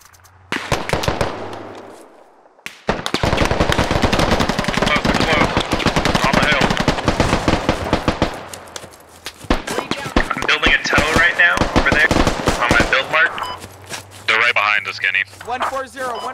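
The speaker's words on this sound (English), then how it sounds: "We're taking shots back here." Rapid automatic gunfire and sharp single shots ring out during a squad battle in the video game Squad, loud near bursts mixed with radio chatter and players talking over it.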